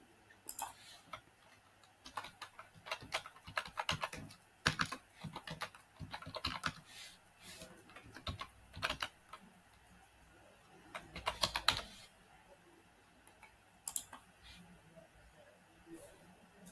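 Typing a card number on a computer keyboard: quiet bursts of rapid key clicks separated by short pauses, close and soft, with occasional single louder taps.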